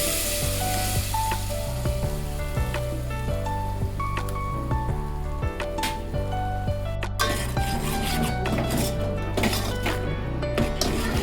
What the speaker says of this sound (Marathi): मसाला चांगला परतून झाल्यानंतर त्यामध्ये कांदा आणि डाळीचे वाटण टाकून घेतलं.